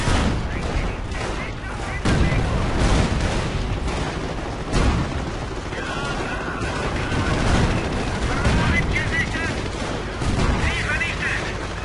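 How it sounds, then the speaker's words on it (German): Dense battlefield gunfire and booming artillery in the WWII strategy game Company of Heroes: Tales of Valor as the base comes under attack, continuous loud volleys of rifle and machine-gun fire with heavier blasts, a voice speaking over the din. "Ach, der Stützpunkt ist unter Beschuss!"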